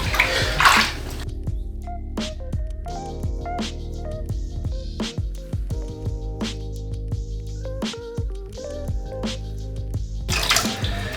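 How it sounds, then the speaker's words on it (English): Levi's 1954 shrink-to-fit jeans being pressed under bathtub water, with sloshing splashes, drips and small watery knocks throughout, louder bursts of running water at the start and end. "You're gonna put your jeans in and you're gonna fully submerge them."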